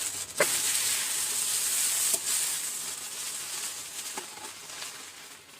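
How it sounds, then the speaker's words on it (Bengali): Fish curry frying in a pan with green chilies gives a quiet, steady sizzle, punctuated by a few soft knocks as it is stirred. "একটু নাড়াচাড়া করে নেবো দিলাম কাঁচা লঙ্কা"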